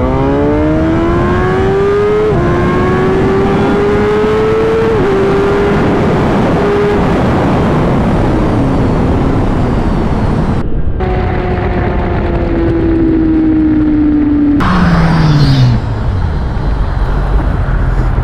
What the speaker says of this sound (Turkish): Herkes gazlıyor. Biz de gazlayalım o zaman.